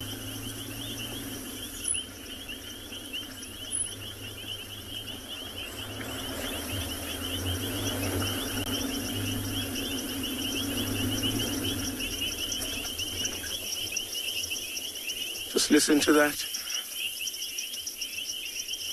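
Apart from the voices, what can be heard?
many frogs calling at night in the bush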